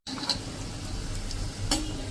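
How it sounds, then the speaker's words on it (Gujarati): A puri deep-frying in hot oil, a steady close sizzle with soft stirring and brief bright crackles near the start and near the end. "હવે આપણે બીજી પૂરી પણ તળી લેશું"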